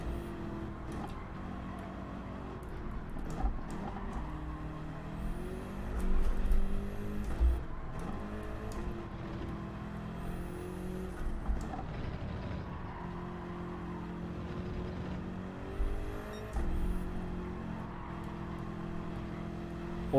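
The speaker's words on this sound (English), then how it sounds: "All you can hear is tyre squeal and tyre slide" A race car in Gran Turismo 7 at Suzuka, with tyres squealing and sliding over a continuous, droning engine roar that swells and eases through the corners.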